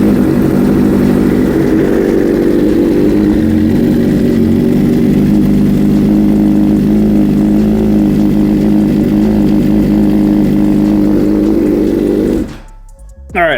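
A motorcycle engine idles steadily and loudly during an oil change, a constant low running hum that holds for most of the stretch before cutting off abruptly near the end.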